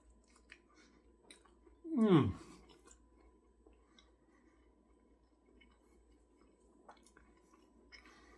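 One short, wet crunching bite into a fried cheese wrap burrito filled with leftover BBQ ribs, close to the mic, followed by quiet chewing over a soft room hum.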